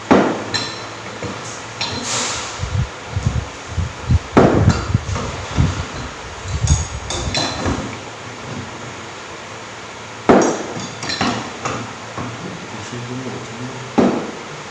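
Bolts being fastened on a hydraulic rack-and-pinion power steering unit, with sharp metallic clanks and tool knocks arriving in irregular bursts and a brief ratcheting, close up.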